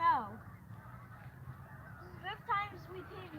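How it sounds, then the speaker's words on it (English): Several geese honk near a fishing spot on a pond, a quick burst of nasal calls at the start and another cluster a couple of seconds later, moderately distant over a quiet outdoor background. "Hope you guys can hear the geese."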